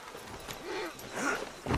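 Horse hooves clip-clop at a walk in Red Dead Redemption 2, a few soft steps close by, with muffled game sounds and a snort or whinny near the end.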